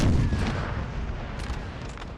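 Artillery fires in Napoleon Total War during a 4v4 tournament battle, a single low boom at the start that rolls off into a rumbling decay with faint battlefield noise.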